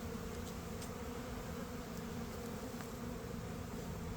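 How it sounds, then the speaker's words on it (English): Honey bees from a house-bee colony buzz steadily during an early-season hive inspection, a dense continuous drone close to the open hive with a few faint clicks and rustles. "these look like house bees"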